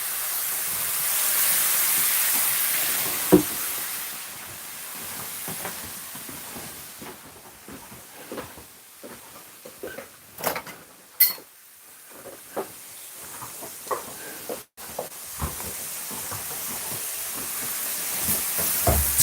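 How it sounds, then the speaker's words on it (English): Bacon cooking in a pan for a sourdough breakfast, giving a steady broadband hiss throughout, broken by scattered sharp pops and crackles of spitting fat, with no talking. "So just cooking off some bacon."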